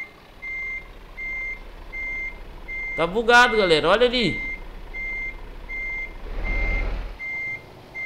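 Repeated truck reversing beeps pulse steadily while a heavy truck is parked at night in Euro Truck Simulator 2, with someone talking over them and an air brake hiss near the end.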